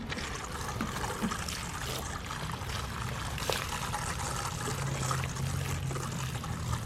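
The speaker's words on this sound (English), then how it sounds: "I'm just rinsing them off, and as best as I can here" Water runs steadily as freshly dug dahlia tubers are rinsed to wash off dirt and residue, a continuous close trickling and splashing with no talk.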